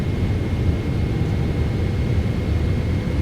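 Jet engines on a PMDG Boeing 777 spool up in a flight simulator game, a steady, loud, continuous roar with a faint high whine, sounding alone with no talk.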